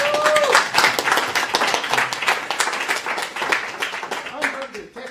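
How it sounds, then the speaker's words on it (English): An audience at a Lean Agile meetup in Edinburgh claps and applauds with a dense, steady burst of hand claps. A few voices talk and call out under it before it thins toward the end. "Everyone, give Andrew a round of applause, please, for coming up here."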